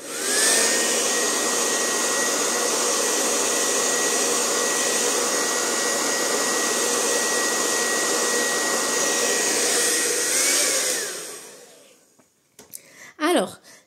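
A hair dryer blows steadily for about eleven seconds to dry watercolour paint on a Christmas bauble card, with a brief pitch shift near the end before it cuts off, leaving a few small handling noises.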